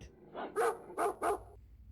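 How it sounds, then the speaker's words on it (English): Cartoon dogs bark in an animated English lesson: three quick, bright barks after a soft lead-in yip, clear and close with no talking over them. "Dogs bark."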